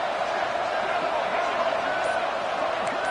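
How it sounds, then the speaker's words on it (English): Stadium crowd in a college football video game, set at Hawaii: a steady, dense roar of many voices holds level throughout, a constant wash of noise with no distinct cheers standing out. "It's early, but this crowd is fired up. Listen to this noise here."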